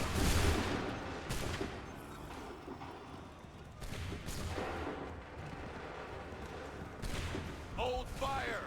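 Musket volleys in Assassin's Creed III roar in a dense, sustained fusillade, wave after wave of crackling shots and booming reports close by, with rolling echoes and occasional shouted commands beneath.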